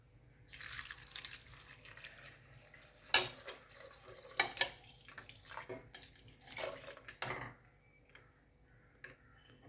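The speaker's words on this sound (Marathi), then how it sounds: "आता कुकरमध्ये ठेवून आपण त्याच्यामध्ये अडीचपट पाणी घालूया" Water poured into a pressure cooker container holding rice for tomato rice, a splashing, trickling flow heard close up over about ten seconds with a few sharper clatters and no talking.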